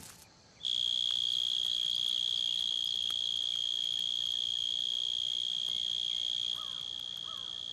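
A male mole cricket sings at its burrow entrance, a continuous high-pitched trill starting abruptly and holding steady at close range, with faint background ambience and no voices.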